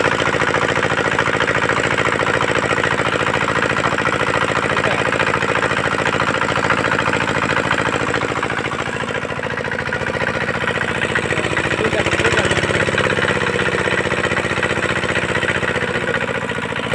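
An 18-year-old diesel farm engine runs steadily, a loud, continuous mechanical drone with a rapid chugging beat close to the listener, holding an even pace throughout.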